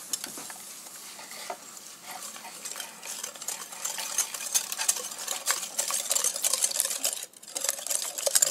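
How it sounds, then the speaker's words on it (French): Sugar, egg whites and vanilla seeds whisked constantly over a bain-marie for lemon meringue cupcakes: steady rapid metallic scraping and clicking of a whisk against a bowl, fairly quiet and unbroken, with no talk. "on va mélanger le sucre, les blancs d'œufs et les graines de vanille"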